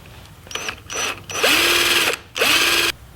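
A power drill bores holes into the upper quarter panel of a Jeep Cherokee XJ, running in three short quick bursts and then two longer, steady high whines separated by brief pauses.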